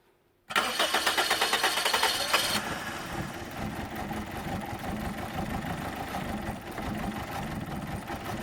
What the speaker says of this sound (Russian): Мотор у нас наотрез отказывается работать.